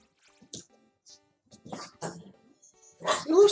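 A pet dog barking indoors in a few sharp, close bursts separated by quiet gaps, the loudest barks coming at the end, with faint movement sounds in between.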